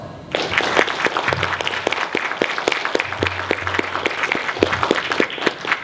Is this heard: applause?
yes